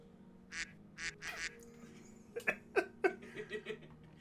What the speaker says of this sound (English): I don't know if the chat can hear the quacks